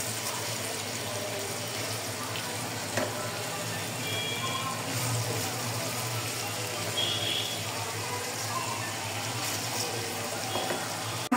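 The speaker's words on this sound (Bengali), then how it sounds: "আমি পেঁয়াজটা কিন্তু খুব বেশি ভাজবো না" Chopped onions with whole garam masala frying in a pan for Afghani Kabuli pulao, a soft steady sizzle with occasional faint clinks and stirring, with no talk.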